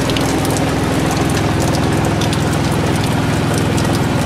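Heavy rain pelts a sailing boat off Scotland's west coast near Loch Nevis, a loud, dense, continuous hiss and patter of drops drumming on the deck and surfaces without a break.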